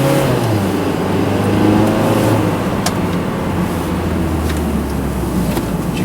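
A 2012 Mazda 3 accelerates while being driven, its engine note heard from inside the car as a steady, loud drone that rises and then eases off, with no talking over it.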